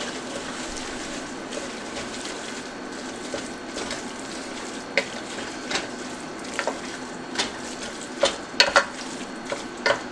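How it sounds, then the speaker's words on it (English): Ground beef browning in a pan, with a steady low sizzle beneath intermittent clicks and scrapes of a spoon stirring it, close and fairly quiet, with no talking. "So we're just going to keep stirring this up."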